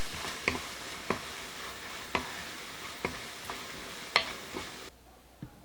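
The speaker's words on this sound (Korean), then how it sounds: "애호박 속 토마토를 넣어 볶습니다." Zucchini filling stirred and fried with tomato in a pan, a soft steady sizzle broken by about eight regular spatula taps and scrapes, close by and fairly quiet.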